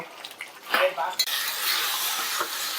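A spoon stirs potatoes with spices in a pan for Bengali niramish aloo dum, giving a soft scraping and sizzling hiss that stays close and continuous, with a few sharper scrapes early on.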